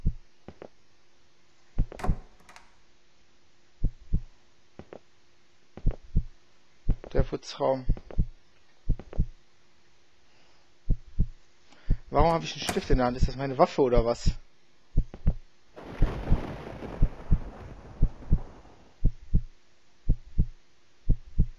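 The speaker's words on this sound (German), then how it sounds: "dieser Puls macht es nicht besser" A slow, regular heartbeat pulse thumps through the horror video game Late Night, deep, evenly spaced beats continuing while someone talks over it at times.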